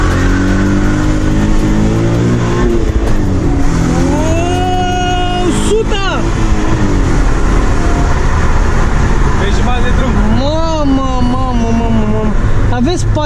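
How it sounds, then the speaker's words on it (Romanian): A Chevrolet Camaro with a 3.6 petrol engine revs hard through full-throttle acceleration from standstill, engine pitch climbing and shifting through gears, with someone talking over it inside the car. "Acum vom face un 0-100, chiar și eu sunt curios în cât timp prinde mașina asta 0-100."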